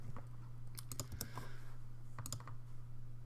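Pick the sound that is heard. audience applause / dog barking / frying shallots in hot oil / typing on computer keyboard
typing on computer keyboard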